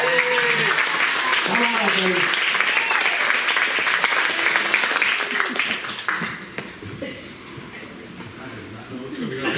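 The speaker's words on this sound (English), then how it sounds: "Manny a round of applause." Audience applause at a real estate mindset seminar, a dense wash of clapping that fades over several seconds while someone talks and calls out over it.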